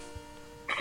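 A single short throat-clearing cough, close and abrupt, at the end of a brief quiet moment.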